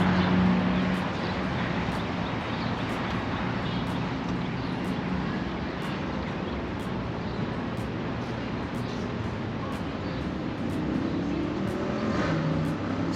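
Steady traffic noise from a line of cars driving on a road on the Fourth of July, a continuous engine and tire roar at moderate level with no talking.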